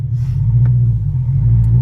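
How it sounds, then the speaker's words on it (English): A turbocharged Subaru BRZ / Scion FR-S / Toyota 86 with a JDL UEL turbo kit pulls on boost at partial throttle, giving a loud, close, steady engine rumble with a faint hiss of dump-tube noise layered on top. "You guys can hear the dump tube, the extra noise"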